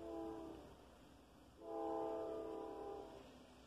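HO scale Atlas Dash 8-40B model locomotive fitted with an ESU LokSound V5 sound decoder, giving two sustained diesel horn blasts, the second louder, over a steady engine hum at moderate, slightly distant volume.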